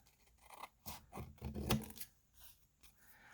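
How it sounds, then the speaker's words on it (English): Scissors snip through magazine paper while cutting out pieces for artist trading cards: a close, quiet run of several crisp cuts and paper rustles clustered in the middle, with no talking. "let's get these two cut out"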